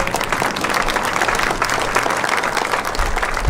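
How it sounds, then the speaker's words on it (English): An audience at an electric cooperative's 75th annual meeting claps in a dense, sustained round of applause, loud and continuous throughout. "Let's give these folks a big round of applause"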